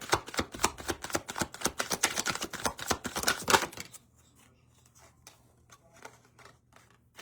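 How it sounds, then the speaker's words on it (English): Rapid riffling of playing cards, a dense run of crisp clicks for about four seconds, then a few softer scattered taps and shuffles in a quiet room. "Last shuffle, ancestors."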